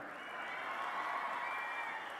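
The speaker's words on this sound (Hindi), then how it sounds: "देखिए ये ताली और बजा रही हैं, आप थोड़ी ताली कम बजा रही हैं।" An audience at a political rally applauds in a continuous, even wash of clapping and faint crowd noise that sounds fairly distant and steady throughout.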